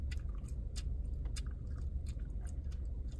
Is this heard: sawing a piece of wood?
no